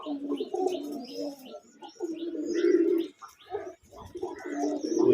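Pigeons coo steadily at a pigeon farm, with low, rolling coos overlapping one another near and loud, plus a few faint chirps in the background.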